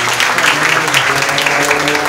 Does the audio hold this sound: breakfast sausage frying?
no